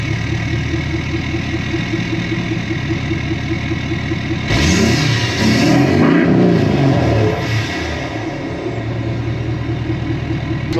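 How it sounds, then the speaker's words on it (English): A 6.7 Powerstroke diesel pickup with a delete kit and a rumble tune idles with a loud, steady, pulsing rumble that swells briefly for a few seconds as the engine picks up, then settles back to idle. "I still have to show you what that rumble tune sounds like"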